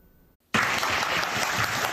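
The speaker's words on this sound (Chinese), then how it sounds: "掌声之中步入会场" Loud, dense crowd applause bursts in after a brief hush and holds steady as Taiwan People's Party presidential candidate Ko Wen-je walks into a campus lecture venue in Taichung.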